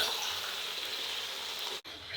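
A fish head fries in foaming coconut oil with a dense, steady sizzle that holds close and loud, broken by one brief drop near the end.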